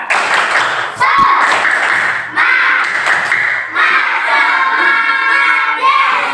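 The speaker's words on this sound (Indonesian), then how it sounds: "Tepuk semangat." Schoolchildren in a science class do a rhythmic spirit clap together, loud and sustained across the whole stretch, with quick repeated hand claps mixed with voices chanting along.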